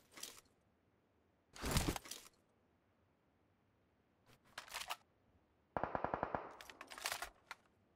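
Uzi submachine gun in PUBG Mobile firing in several separate loud bursts, the longest a rapid rattling volley near the end, with quiet gaps between them.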